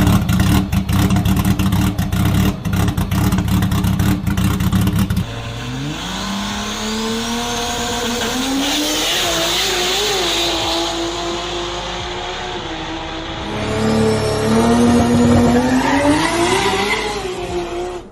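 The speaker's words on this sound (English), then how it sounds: "Nissan 240 SX with 2JZ engine." Nissan 240SX with a 2JZ engine swap roars in hard revs, then slides with long tire squeal as the engine pitch rises and falls across a sustained skid, loud and close.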